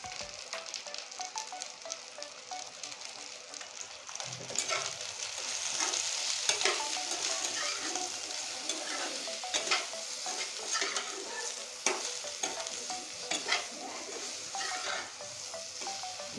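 Spices frying in a pan with salt and turmeric for a Lakshmi Puja offering, a steady soft sizzle with occasional stirring scrapes throughout, faint and continuous with no voices.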